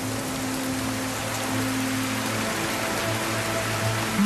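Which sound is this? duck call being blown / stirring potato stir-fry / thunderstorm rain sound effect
thunderstorm rain sound effect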